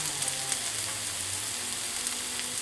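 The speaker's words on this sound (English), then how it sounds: "I'm going to go ahead and cook my eggs" Eggs frying in a pan after bacon: a soft, even sizzle and crackle, steady and close, with no talking.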